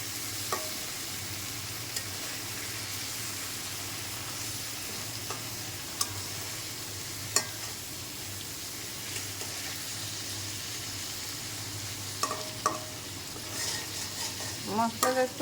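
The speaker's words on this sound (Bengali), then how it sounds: "ইলিশ মাছ মেখে তেলে দিয়ে দিয়েছি, এখন ফিরিয়ে দেবো।" Hilsa fish pieces, coated in spices, fry in hot oil with a steady, continuous sizzle, broken by a few sharp clinks and scrapes as the fish is turned, growing busier near the end.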